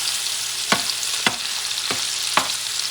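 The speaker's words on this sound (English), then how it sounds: "I'm going to add the squid and the shrimp. And I'm going to cook this baby." Squid and shrimp sizzle loudly in a hot pan, a continuous bright hiss broken by four sharp pops or spatula scrapes spaced roughly evenly, close and alone with no voices.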